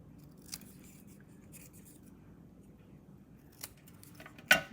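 Scissors make a couple of crisp snips near the end of a quiet indoor stretch, with faint handling rustles before and no talking.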